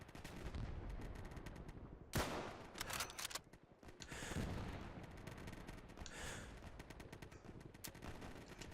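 Sniper rifle and gunfire in the video game Easy Red 2 on a Southern France custom map: a steady rattle of distant battle with sharp, loud rifle cracks standing out, one at about two seconds and more after, with no talking.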